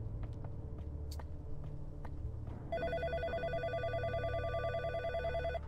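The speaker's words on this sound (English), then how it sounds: "What the hell is this phone doing here?" An old-style telephone bell rings steadily in the horror video game In Sound Mind, starting partway through over a low droning ambient rumble, with repeated loud trilling bursts and no talk.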